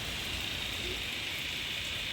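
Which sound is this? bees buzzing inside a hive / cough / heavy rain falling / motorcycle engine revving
heavy rain falling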